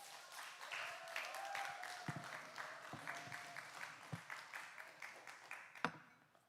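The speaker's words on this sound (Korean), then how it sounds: "우리 창준이 앞에 나올 때 뜨겁게 박수로 우리 격려해 주시면 좋겠습니다." A youth worship congregation in a church applauds warmly to encourage a young man coming forward, a steady round of many hands clapping that gradually fades, with a faint tone lingering underneath.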